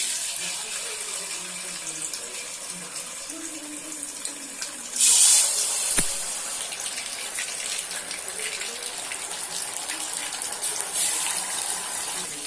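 Marinated chicken 65 pieces dropped one at a time into hot oil, a steady loud bubbling sizzle that surges as pieces go in, with a voice talking over it.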